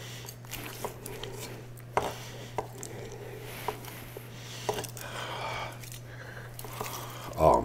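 A Jikko bullnose 210mm knife chops food on a board, with scattered sharp taps spaced irregularly over a low steady hum, ending in a louder clatter.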